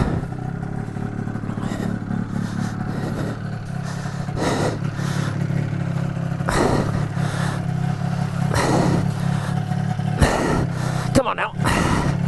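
A snowmobile engine roars and clatters close by, revving in repeated surges as the sled is maneuvered and backed around on snow, with someone talking intermittently over the motor.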